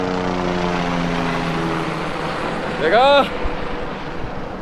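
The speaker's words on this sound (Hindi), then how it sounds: "हमारे ऊपर से निकलेगा अभी हेलीकॉप्टर" A helicopter drones steadily in the background on the Kedarnath Yatra mountain trail, its rotor hum rising briefly louder near the end as it passes overhead, with a short spoken word.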